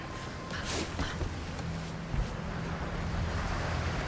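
Steady wind rushing through the Tomb Raider video game, a continuous broadband whoosh with soft low rumble and brief gusts, holding at an even level throughout with no voices.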